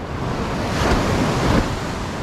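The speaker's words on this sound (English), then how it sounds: "this area up here we're coming to where the rocks and the waves wash in" Ocean waves wash in over rocks on a South Australian surf beach at Berry Bay: a broad, steady roar of surf that swells and breaks around the middle, with wind buffeting the microphone.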